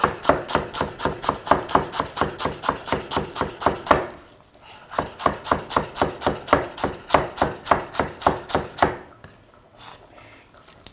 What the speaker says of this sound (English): So you just tighten it up into a bunch there and chop away as finely or roughly as you like.